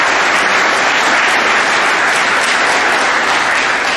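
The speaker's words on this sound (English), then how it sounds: "a round of applause for that" Dense, steady applause from a large audience at a high school spring sports awards assembly, loud and continuous for the whole stretch with no voices standing out.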